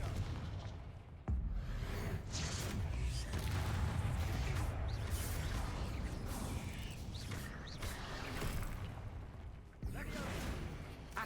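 Blast spells cast in Hogwarts Legacy, with booming, crackling impacts and mechanical clatter spread across a dense, busy battle mix, with a brief gap near the start.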